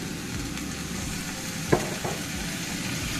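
Tomatoes added to a hot pan while cooking a Nepali curry, giving a steady close sizzle and frying hiss with a brief clatter of stirring partway through.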